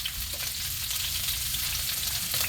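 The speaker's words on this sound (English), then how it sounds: "Searing some meat." Pork chops searing in a hot pan, giving a steady, close, continuous sizzle and crackle throughout with no talking.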